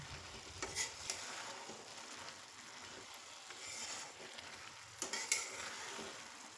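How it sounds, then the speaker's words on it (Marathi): Beetroot barfi mixture is stirred in a pan as it cooks and sets, with a steady soft scraping and sizzle and a few sharper utensil scrapes against the pan, heard alone without talk. "जसजसं आपण हलवतो तसतसं हे सेट होत आले आहे, म्हणजे शिजत आले आहे"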